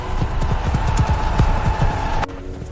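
Hooves clip-clop in a steady, fairly close rhythm during an escape on horseback, joined by a sustained tonal hum, before cutting to a quieter background near the end.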